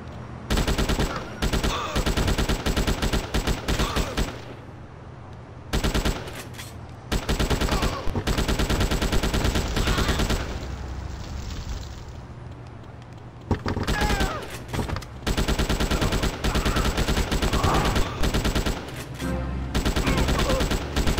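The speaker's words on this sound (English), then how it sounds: "Get our AK-47 out." Sustained bursts of AK-47 automatic fire in GTA Chinatown Wars, loud and dense, with long rapid strings broken by brief pauses and quieter gaps.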